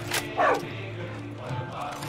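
A dog in Far Cry 5 gives a short, close yip-like bark amid quiet game sound, with a voice faintly speaking underneath.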